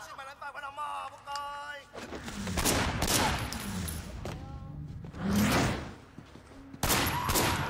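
Video game gunfire from Sleeping Dogs, with repeated loud shots in bursts over busy in-game noise. A voice can be heard early on, under and between the shots.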